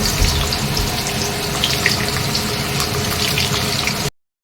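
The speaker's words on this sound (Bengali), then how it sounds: "আর এবার আমি এখানে আলু ভাজা করছি, আর এখানে পাঁপড় ভাজা হচ্ছে।" Papad and potato slices frying in hot oil, a dense, continuous sizzle and crackle heard close up for about four seconds before cutting off.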